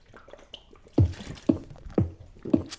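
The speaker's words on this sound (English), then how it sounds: "Let me just take a swig of water real quick." Gulps of water from a Poland Spring plastic bottle come as four close, evenly spaced swallowing glugs about half a second apart, after some faint handling sounds.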